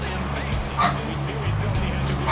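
A dog barks and yips close by in a few short bursts, with a person talking underneath.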